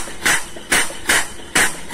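Four rhythmic, evenly spaced bursts of a vacuum pump sucking crude palm oil through a hose, each a breathy rushing pulse, close and fairly loud with no talking.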